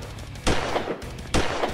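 Gunfire in the horror survival game Slendytubbies 3, The Lake map: two sharp, loud shots spaced about a second apart, each with a short ringing tail, and no talking.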